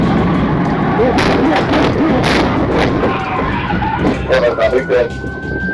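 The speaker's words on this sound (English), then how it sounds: "the first trooper executes a textbook pit maneuver. The Elantra spins" A police car performs a PIT maneuver on a fleeing Hyundai Elantra during a chase, sending it into a spin; loud, continuous road and engine roar with skidding and scraping bursts, partly under talk.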